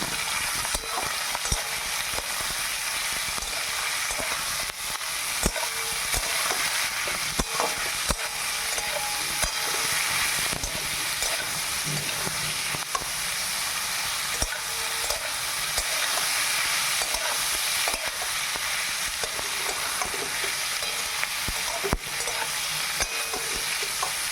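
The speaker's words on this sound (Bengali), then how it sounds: "এবার সুন্দরভাবে এটা লাল করে ভাজতে হবে।" Salted boiled soybeans fry in a pan over medium gas, a steady close sizzle with frequent scraping and tapping from stirring throughout the long stretch, no voices.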